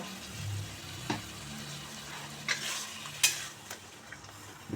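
Vegetables go into spices frying in a pan for a Bengali fish curry, making a steady sizzle broken by several sharp stirring scrapes and clinks of a spatula, close by with no talking.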